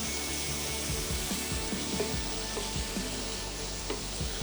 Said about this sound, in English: It sounds so good. Just listen to the sizzle.